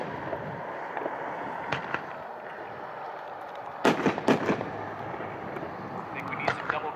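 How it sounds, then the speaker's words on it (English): A 9-shot double break 500-gram fireworks cake packed 2-1 at a fireworks demo show, with scattered pops early and then a loud cluster of sharp bursts and cracks, followed by a few more near the end over faint background murmur. "the next item up tonight, is a 9-shot double break, 500-gram cake packed 2-1"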